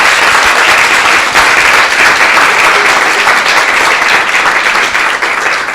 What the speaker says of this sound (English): So give him a round of applause for that.